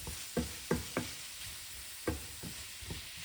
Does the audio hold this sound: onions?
yes